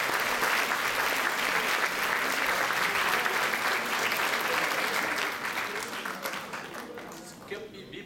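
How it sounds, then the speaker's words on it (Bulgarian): Sustained applause from an audience at a graduates' concert, a dense, loud wash of clapping that holds steady for several seconds before thinning out and tapering toward the end. "Моля за вашите аплодисменти."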